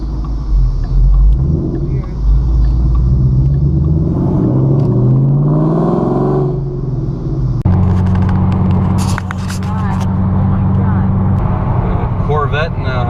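A 2014 Shelby GT500 pulls away on a road trip drive, its engine a loud, continuous low rumble from inside the car, rising and shifting as it accelerates.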